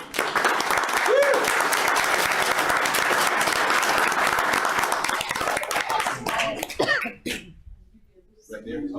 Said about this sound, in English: Round of applause again for our.